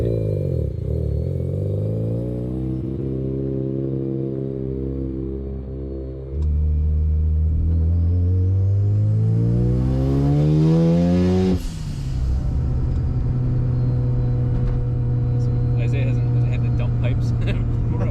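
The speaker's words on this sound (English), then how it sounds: "So you can tell when the wastegates are open." A turbocharged, tuned car running on pump gas at 11 PSI of boost roars on a track, its engine note climbing steadily under acceleration before a sharp break, then a loud sustained drone with wastegate hiss and flutter.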